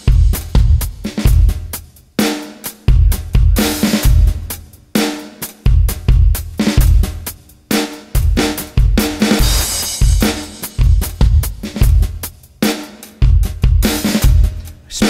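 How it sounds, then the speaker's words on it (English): A pre-made drum beat in 6/8 time, not a standard waltz feel, punchy kicks and bright crashing cymbals repeating in a driving pattern, loud and alone for about fifteen seconds. "I pre-made a drum beat, and it's in a 6/8 time signature"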